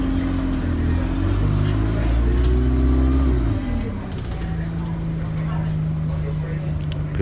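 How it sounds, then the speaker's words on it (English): Bus ride home, a loud steady engine drone with shifting tonal hums as the bus changes speed, continuous and close. "I'm on my bus going home"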